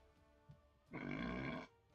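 A single throaty burp from a person during a Marvel Contest of Champions gaming stream, lasting under a second, fairly close and alone after a small faint sound.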